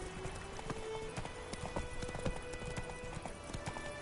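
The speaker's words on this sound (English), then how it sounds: "Run, Roach." Galloping horse in a PS4 video game, its hooves beating a quick steady clip-clop rhythm throughout, close and even in level, with game ambience and faint musical tones underneath.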